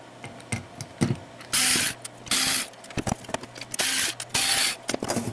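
Compact screws are taken out of a hard drive inside a 2012 HP Envy H8 desktop, with short whirring tool bursts alternating with clicks and small clatters, close and fairly loud.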